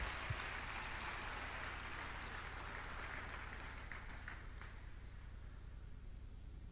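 Steady applause from a reception audience honouring the new Attorney General of the Federation, dense clapping holding at an even level for the whole stretch, softening slightly toward the end.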